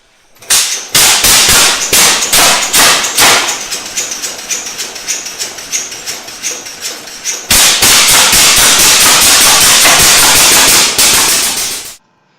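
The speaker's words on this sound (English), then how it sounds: "the reason why the tractor is so loud at the moment is because the decompression taps are open" A Titan 10-20 tractor engine runs with its decompression taps open, giving loud, sharp, crackling exhaust bangs in an irregular rapid series that grows denser and steadier near the end, then stops abruptly.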